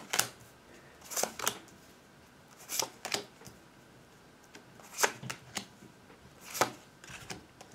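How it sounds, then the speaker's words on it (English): Tarot cards are laid out and handled on a table in a quiet room: several short papery flicks and slaps come in small clusters, close and crisp, with soft pauses between them. "Start putting the cards around."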